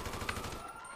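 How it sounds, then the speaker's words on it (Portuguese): Rapid bursts of video-game gunfire crackle in a quick repeating rhythm for about a second, moderately loud, then fade into a steady hum. "Ele tá atirando no deles, mano"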